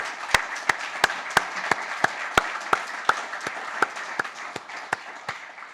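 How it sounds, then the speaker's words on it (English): A conference audience at the closing session applauds with sparse, distinct claps at a steady, even pace, spread over several seconds against a quiet room. "I would like to have a big applause for Terry Martin, Alex Valenti, Ferdinand Be"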